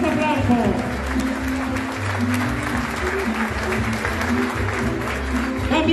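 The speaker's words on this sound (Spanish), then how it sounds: "¡Fuertes aplausos!" Loud crowd applause at a political swearing-in event for a municipal committee, sustained clapping throughout with a continuous low hum and voices underneath.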